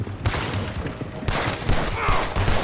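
Rapid rifle and gun volleys crack in a dense exchange during a shootout with United States Army soldiers in Red Dead Redemption 2, loud and close with overlapping bursts throughout.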